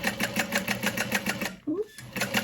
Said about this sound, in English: I will sew down that side of the lining.